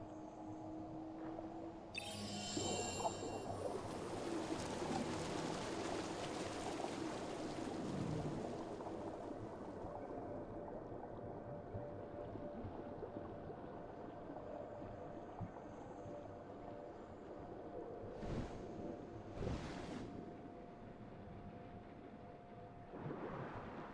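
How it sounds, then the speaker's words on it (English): Underwater ambience from the video game Abzu: a soft, continuous watery wash of the diver swimming, with brief swells and a couple of short bright bursts, distant and calm, without speech. "the only thing you could hear is the sound of your character swimming and whales and other sea creatures in the background"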